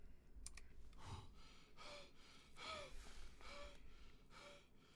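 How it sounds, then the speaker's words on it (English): Video game character panting and breathing heavily after taking damage, a series of rhythmic gasping breaths, about five in succession, moderately loud and close with no talk. "you could hear the panting, the guy breathing"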